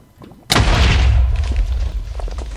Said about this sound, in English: Do massive explosions.